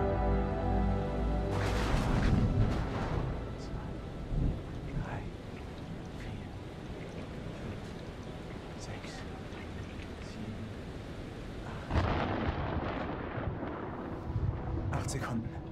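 Thunderstorm in the horror video game Man of Medan: deep rumbling thunder and rolling booms over a constant rain-like wash, with a louder crack near the start and another swell toward the end, voices faintly present.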